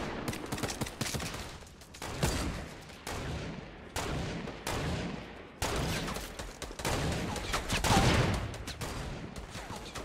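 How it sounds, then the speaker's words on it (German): Dense, continuous gunfire from the Fortnite Battle Royale video game, rapid overlapping shots and bursts running loud throughout with brief gaps, a faint voice in the background. "Oh, hier wird aber sehr hart geschossen."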